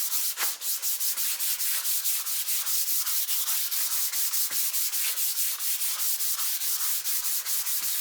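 Fine-grit sandpaper polishing the neck of a 7-string Les Paul-style guitar, a steady close-up rasping rub with quick repeated back-and-forth strokes and no talking.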